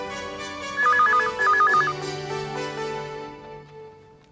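A phone ringtone in a Hindi TV drama scene plays as two quick bursts of bright electronic trilling over soft background music, then fades.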